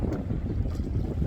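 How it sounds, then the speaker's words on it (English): Wind blows steadily across a Larson boat during docking, a continuous low rushing roar with microphone buffeting and faint water sound, no voices. "The wind isn't helping either."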